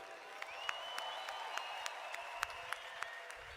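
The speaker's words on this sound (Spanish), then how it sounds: "Give them all a big round of applause." Audience clapping at a leadership conference, a thin scattered patter of hands with a few sharper individual claps standing out, heard from a distance and fairly faint.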